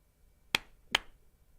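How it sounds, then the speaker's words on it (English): Two sharp, crisp hand claps ring out about half a second apart, close and distinct against near silence. "If you clap twice, it switches."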